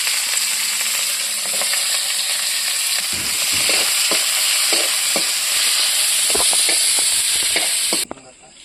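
Onions hit hot oil and fry with a loud, continuous sizzle, spatula taps and scrapes ticking through it nearby before the sound cuts off abruptly near the end.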